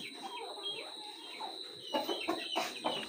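Aseel chickens clucking at a home yard, soft scattered calls at first, then louder, closer bursts toward the end over a steady high hiss.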